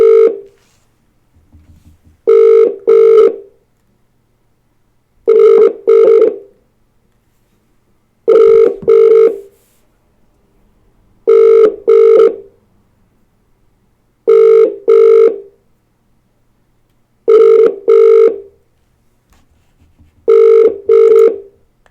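A telephone ringback tone during an outgoing call to a guest, repeating as paired bursts about every three seconds with silent gaps between, loud and clear with no talking over it.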